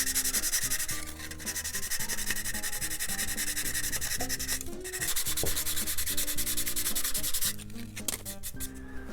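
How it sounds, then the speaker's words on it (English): Excess epoxy is sanded off the wing center section of a Barnstormer 25S vintage RC model plane in continuous, loud back-and-forth rubbing strokes close to the microphone, over a background of steady tonal music. "So I just sanded off some of that excess epoxy that was sticking out"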